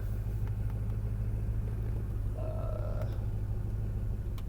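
An LB7 Duramax diesel pickup truck rolls slowly into a car wash with a steady low engine rumble close by and a faint brief squeak partway through, with no talking.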